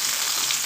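Ginger, green chilli and curry leaves frying in oil in a pan give a steady, close sizzle, even and continuous with no pauses.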